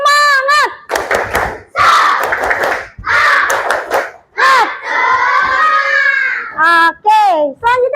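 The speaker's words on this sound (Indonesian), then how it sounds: "kita tepuk semangat dulu" An Indonesian primary school class chants the tepuk semangat clapping routine in unison, with loud children's voices shouting rhythmic phrases punctuated by short bursts of hand claps between the lines.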